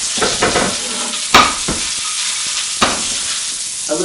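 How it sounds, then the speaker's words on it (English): Onion sears in a hot non-stick pan, a steady loud sizzle broken by a few sharp scrapes and clacks as it is stirred. "I'm not frying the onion, I'm simply searing it"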